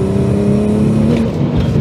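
A BMW fitted with a Nissan V6 engine revs hard at high RPM, a loud, dense, sustained roar with a steady droning pitch, close up and with no voices over it.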